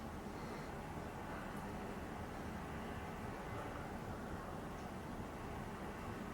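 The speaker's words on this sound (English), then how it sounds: "Sorry if you guys can hear like some traffic and shit in the background." Steady road traffic heard through a slightly open window, a constant broadband rumble and hiss with no distinct passing vehicles, fairly faint and alone.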